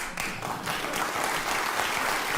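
A studio audience claps during a comedy monologue, a dense, lively round of applause at steady volume throughout, with no voices over it.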